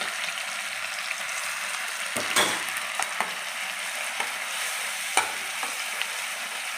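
Ginger, garlic and onion paste frying in oil, stirred steadily: a constant close sizzle with a few sharp scrapes of a spoon against the pan, no voices.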